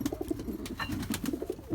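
A mixed-breed pigeon paired with a racing pigeon cockbird coos in soft, rhythmic low pulses, close by and fairly quiet, with no talking.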